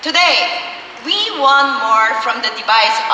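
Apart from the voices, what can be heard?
None of the usual background noises is heard.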